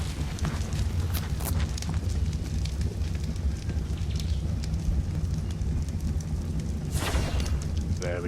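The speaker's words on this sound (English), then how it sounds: "So we're just going to light the fire again." A campfire burns in the game ARK: Survival Evolved, a dense continuous crackling roar with low rumble and occasional brighter pops, loud and steady throughout.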